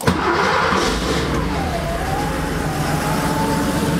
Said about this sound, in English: Let me go ahead and start the car and see how we did.